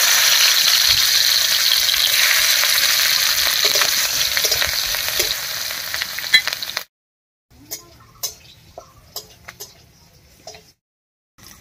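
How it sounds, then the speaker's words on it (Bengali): Crushed garlic and green chillies hit hot mustard oil in a pan. A loud, steady sizzle lasts about seven seconds, then cuts to near silence broken by scattered light clicks. "তেল গরম হয়ে গেছে, তেলের মধ্যে দেব থেতো করা রসুন আর কাঁচা লঙ্কা।"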